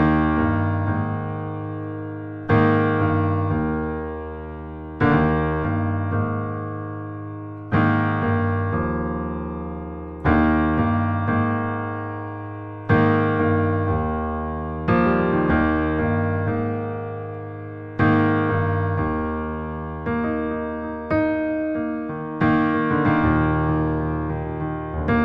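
Solo piano plays the intro of a song in a cover arrangement, with repeated sustained chords struck roughly every two and a half seconds and each decaying before the next, close and clear, with no talk.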